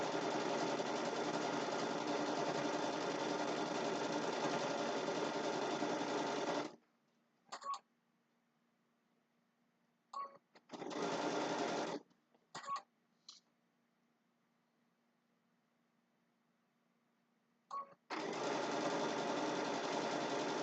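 A sewing machine stitches a quilt border in close, fast bursts: one long continuous run, then several short taps and stops, a second sustained run, and a final stretch of stitching, with quiet pauses between.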